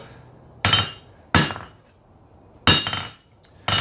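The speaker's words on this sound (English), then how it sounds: "You can feel it in your hammer, and you can hear it when you hit it." A blacksmith's hammer strikes hot steel while forging a Damascus knife blade, four loud, ringing blows spaced unevenly with short decays, close by and nearly alone.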